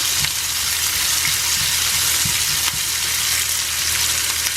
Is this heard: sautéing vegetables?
yes